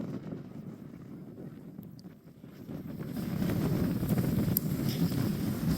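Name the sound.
wind blowing into the microphone outdoors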